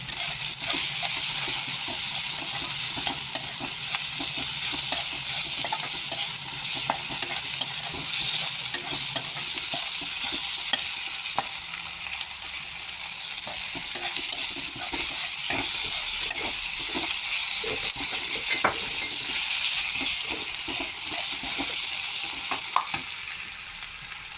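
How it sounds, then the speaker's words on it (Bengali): Chopped tomatoes fry in a well-cooked spice masala for a Bengali chital fish kalia, giving a loud, steady sizzle throughout with frequent scraping stirs and light clinks from the pan, with no talking. "এখন দেখুন, আমার এই সম্পূর্ণ মশলাটা কষে এসছে। ওতে দিয়ে দিচ্ছি আমি টমেটো কুচি।"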